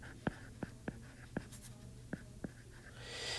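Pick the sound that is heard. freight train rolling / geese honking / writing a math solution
writing a math solution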